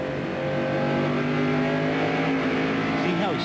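A race car at the 2001 New England 300 accelerates out of a corner, heard from the in-car camera as a loud, steady engine drone with rising harmonic pitch; a voice comments over it.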